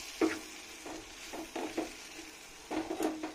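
Chili powder being stirred into a bottle gourd curry in a pan, giving a handful of brief scraping stirs with soft sizzling between them, close by with no talk.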